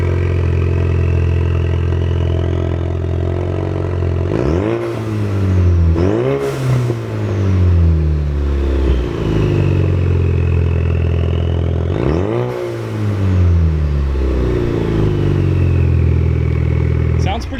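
Ford Focus RS with an open downpipe and only the catalytic converters fitted, idling loudly up close and then revved hard several times, each blip sweeping up and falling back to a raspy idle.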